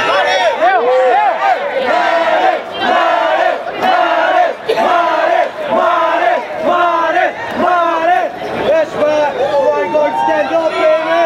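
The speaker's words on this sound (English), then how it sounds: "So Abner Mares, you hear the crowd." A boxing weigh-in crowd for the Leo–Mares rematch roars and chants continuously, a dense wall of voices with rhythmic shouted chanting swelling and dipping throughout, loud and close.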